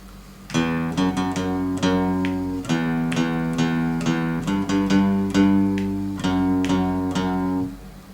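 A guitar picks out a slow melodic line of single notes, each ringing briefly before the next, steady and unhurried with no voices.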